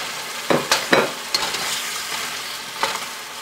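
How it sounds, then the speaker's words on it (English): Shrimp and asparagus stir-frying with a spicy sauce, a steady close sizzle broken by several sharp scraping stirs of the pan, loudest in the first second and again near the end. "stir fry that for about 30 seconds or so. Keep it moving."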